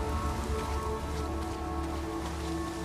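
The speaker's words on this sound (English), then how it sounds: "Seems like it's always raining out here." Steady rain pours in the open-world video game Days Gone, a constant hiss of drops on surfaces with a low rumbling bed underneath, unbroken and even for the whole stretch, with no voices.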